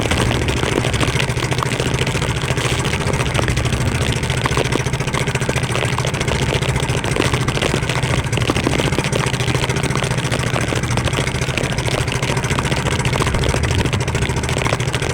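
Loud, constant boat engine drone with a steady low hum, running without pause, mixed with broadband noise of wind, rain and big waves.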